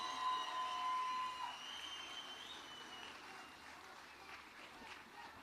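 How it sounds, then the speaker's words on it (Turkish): An audience applauds at an Istanbul liberation day ceremony as a dignitary is introduced. The faint, steady clapping lasts about five seconds and is heard from a distance. "alkışlarınızı kesmeyin"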